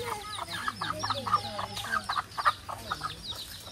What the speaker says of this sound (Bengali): এখানে ঘুরতে ঘুরতে হচ্ছে একটা মুরগির বাচ্চা নিয়ে ঘুরতেছে